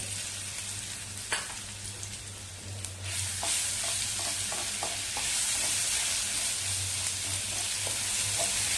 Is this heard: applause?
no